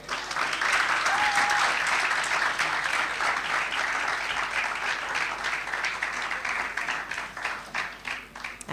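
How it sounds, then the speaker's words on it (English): An audience at an award ceremony gives sustained applause, a dense wash of clapping that holds steady for several seconds before slowly thinning out. "I think you should clap her again."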